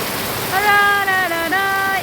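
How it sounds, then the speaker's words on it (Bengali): Heavy rain falls in a steady broadband rush, while a sustained tonal voice or horn-like sound rises over it in two long held stretches. "জোরে জোরে বৃষ্টি হচ্ছে অনেক অনেক পানি"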